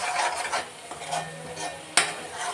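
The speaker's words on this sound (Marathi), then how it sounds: "तर हेही मी छान परतून घेणार आहे" Chili powder masala for misal being sautéed in oil in a pan, with soft stirring scrapes and light sizzling, close by, and a sharp utensil knock near the end.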